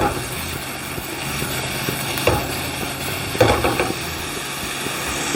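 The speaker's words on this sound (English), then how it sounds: "The apples have only been cooking for a few minutes, and they're getting some lovely colour on them" Apples with brown sugar and butter sizzle steadily in a pan over low heat, a continuous close crackling hiss with a couple of brief louder spits.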